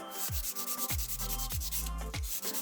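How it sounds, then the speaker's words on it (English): A nail buffer rubs over the surface of fingernails in quick, rhythmic back-and-forth strokes, soft, close scratchy rasps repeating about every half second. "I'm going to do now is buff over the top of the nails"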